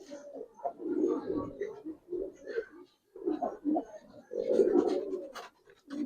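Giribaz pigeons cooing close by in a loft, repeated soft low throaty calls in uneven bursts, with brief quiet gaps and occasional rustling.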